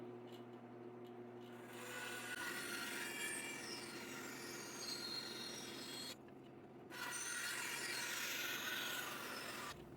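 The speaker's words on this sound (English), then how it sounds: "Before cutting the blocks of wood in half to serve as scales, I trimmed up their top edges." Wood blocks for knife handle scales having their top edges trimmed, a steady rasping and rubbing of a tool on wood that pauses briefly twice, close and continuous.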